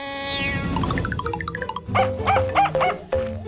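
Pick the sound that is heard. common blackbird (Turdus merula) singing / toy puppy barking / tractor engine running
toy puppy barking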